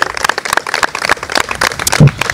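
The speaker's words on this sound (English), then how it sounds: "let's clap it up for Ismail running for office, y'all" A crowd at a campaign gathering in Columbus, Ohio, claps for Ismail running for a House District 25 seat. Sharp, uneven claps come from many hands, close and loud, with a brief voice mixed in near the end.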